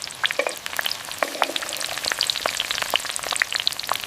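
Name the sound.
sautéing shallots and garlic in tempered oil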